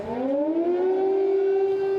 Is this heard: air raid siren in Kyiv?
yes